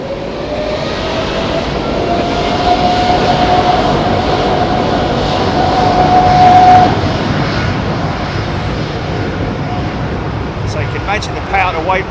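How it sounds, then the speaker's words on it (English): A jet airliner fitted with two CFM56 engines rumbles past at Heathrow in a steady, broad roar that swells and fades over several seconds, with people talking nearby and a faint whine riding on top. "A couple of CFM 56s bolted to her."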